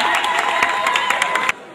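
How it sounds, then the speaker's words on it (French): Crowd applauding at a football club ceremony honouring a JS Kabylie player in Azazga, a dense wash of clapping with cheers and a sustained tone, cutting off abruptly near the end. "Applaudissez, voilà."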